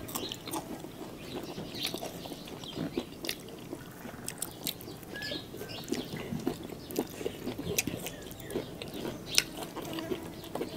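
Crunchy Thai fermented food, with a sour, naem-like smell and a firm bite, chewed close to the mic in a steady run of wet bites and crisp crunches with no talk.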